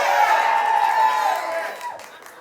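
A large crowd at an early voting rally cheers and shouts, a loud, sustained roar that swells early and then gradually fades toward the end.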